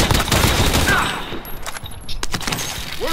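Tec-9 gunfire in Call of Duty: Modern Warfare, a dense rattle of loud game shots through the first second, then scattered fainter shots and game noise over the rest.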